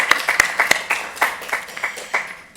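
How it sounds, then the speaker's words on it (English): Sparse, scattered clapping from a small group at a Mozilla weekly project meeting, individual claps distinct and uneven over a couple of seconds, fairly close and moderately loud with no talking. "So let's give a round of applause to AO3 and their Hugo Award"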